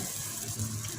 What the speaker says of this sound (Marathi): बघी हात धुते.